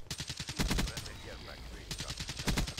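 Rapid bursts of video-game gunfire in a Call of Duty Blackout gunfight, loud close automatic shots in clusters at the start and end with a quieter gap between.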